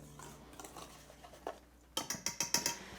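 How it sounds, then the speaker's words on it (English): A whisk stirs scone dry ingredients in a bowl, at first soft and scattered, then a rapid run of rhythmic metallic clinks against the bowl, close and quiet with no talking. "So you just whisk that together until everything is mixed."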